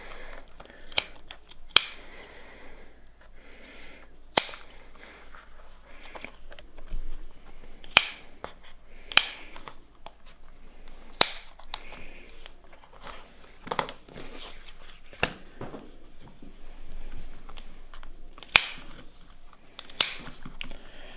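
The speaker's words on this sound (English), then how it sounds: "just pop the old scissoros in there and just snip either side" Scissors snip at fabric for a custom gear stick shift boot, sharp isolated cuts recurring every second or two, fairly close, with light rustling of the material between them.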